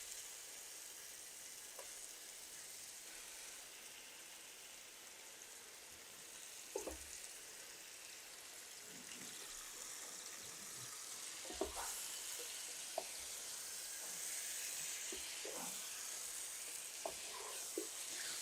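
Sizzling hiss from 1.5 kg of washed chicken frying in a hot pot for chicken biryani, a steady close crackle with occasional utensil clinks and stirring bumps, no talking.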